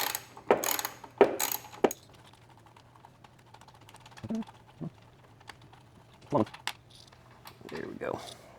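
A ratchet turns a 10mm socket to back out a bolt deep in a Jeep JL engine bay: a few quick, close ratcheting bursts, then scattered quieter clicks and handling knocks.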